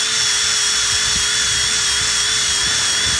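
A Power-TEC 91488 stripe-off disc spins on a power tool and strips vinyl decals from a vehicle, giving a loud, steady high-pitched whine that runs without a break.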